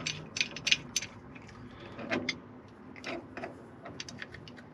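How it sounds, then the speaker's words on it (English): A pipe wrench unscrews a broken metal insert from a knob on a WWII half-track, giving faint, close metallic ratcheting and clicking in short irregular bursts with no talking. "Let's see what a pipe wrench does."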